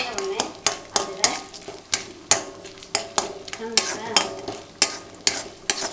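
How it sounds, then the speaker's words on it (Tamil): Urad dal and chana dal roasting in a pan, a spoon scraping and knocking against the metal in a regular rhythm about twice a second over a light sizzle, with faint background chatter. "உளுத்தம்பருப்பு, கடலைப்பருப்பு இதெல்லாம் வறுக்கணும்"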